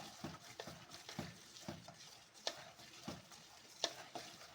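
Bonda batter for Mangalore goli bajji is stirred steadily in one direction in a bowl, giving soft, rhythmic scraping and squelching strokes close by with no voices.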